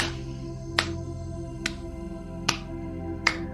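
Four sharp, isolated claps spaced evenly about a second apart over a steady low hum, close and distinct.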